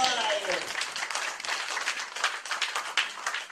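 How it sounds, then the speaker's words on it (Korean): Congregation claps at a church revival meeting in Suwon: dense, steady applause runs throughout, with voices speaking over it. "박수 한번 쳐드려요."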